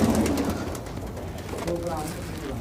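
Pigeons kept by a fancier in Sonipat, Haryana coo softly in the background. Low murmuring calls sit under a voice speaking nearby.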